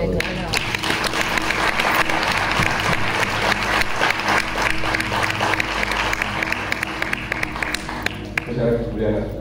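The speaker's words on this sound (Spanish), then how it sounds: "yo creo que se merece un fuerte aplauso" An audience applauds together after a talk on X-39 patches, a dense burst of clapping that runs steadily for about nine seconds and fades near the end, with some voices mixed in.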